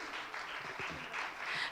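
A conference audience claps as a round of applause. The clapping is moderate and sustained, with a voice partly over it.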